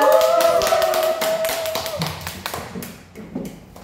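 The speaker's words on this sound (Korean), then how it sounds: "이분을 뜨거운 일당배 뜨거운 박수로 환영하겠습니다" Applause welcomes a sponsor's speaker at a Korean business seminar, loud, close clapping that opens under a held musical tone, then thins out into scattered individual claps as the crowd settles.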